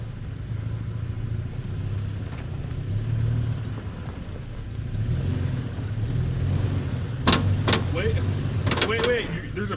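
A locked mid-sized Honda overlander in four-wheel-drive low grinds slowly over rocks on an off-road trail, its engine a steady low rumble with a few sharp clunks and scrapes near the end as people talk nearby.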